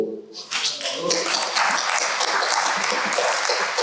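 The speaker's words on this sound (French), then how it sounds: "Ça s'applaudit, Victor." Applause from an audience at a round-table on physical activity, sport and disability, clapping building quickly after a brief voice and then holding steady.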